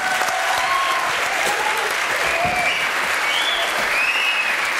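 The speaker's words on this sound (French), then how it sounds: "Allez, alors, mesdames, messieurs, applaudissements pour Muriel." TV studio audience applauding on a French variety show, a dense, sustained burst of clapping at full volume for about five seconds, with a few faint cheers mixed in.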